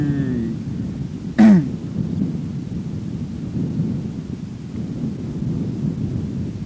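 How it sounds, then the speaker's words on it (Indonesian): Strong wind blows steadily across a fishing dam, producing a low continuous rumble broken by one brief, sharp gust-like burst near the start, heard close to the microphone. "Tuh anginnya bos, anginnya kenceng sekali."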